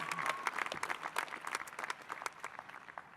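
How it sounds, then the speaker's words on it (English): University commencement audience clapping for the graduates' parents, a dense round of many hands with sharp individual claps standing out, fairly distant and fading slightly toward the end. "let's give those parents a hand. Another round of applause."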